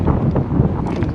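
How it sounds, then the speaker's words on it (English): A gust of wind on a mountain crest buffets the microphone with a loud, rumbling roar that fills the whole moment. "There's a gust of wind again"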